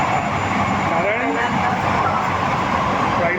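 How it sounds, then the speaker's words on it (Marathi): An underground Mumbai Metro train runs through its tunnel with a loud, continuous rumbling roar and a rising whine as it picks up speed, steady throughout. "अंडरग्राऊंड मेट्रोचा पहिल्यांदाच प्रवास चालू आहे"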